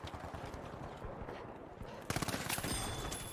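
Automatic gunfire in a shooter video game, rapid bursts of shots at first, then a denser, harsher stream of fire in the second half, with someone talking over it.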